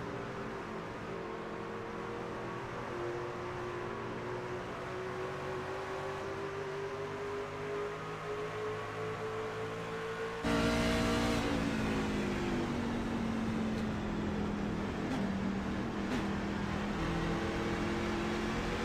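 Engine of the number 70 race truck, Burt Wilson's Chrome Nerd, at Phoenix during a ride-along, a steady droning hum whose pitch slowly rises and falls, then jumps louder partway through and keeps running.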